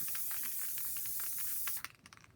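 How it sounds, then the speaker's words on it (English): Loctite spray adhesive is misted from an aerosol can over a tumbler cup in a craft room, a continuous close hiss with faint flutter that cuts off near the end, followed by a few light clicks. "the whole cup is sprayed in Loctite"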